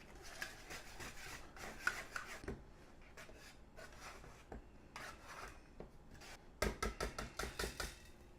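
Whisk or fork mixing an ingredient mixture in a bowl for a bloomin' onion, giving close, steady scraping and rasping strokes, with a quicker burst of rhythmic clinking taps near the end.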